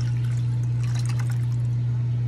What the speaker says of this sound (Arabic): نضيف لها كوبين مي